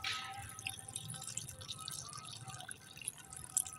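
Water poured into an outdoor drain channel gives a soft, steady trickle with small splashes and drips. It is faint and continuous, with no speech over it.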